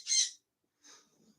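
A pet bird gives a bright, high call, then after a short pause a second, softer and rougher call, close by in a quiet room.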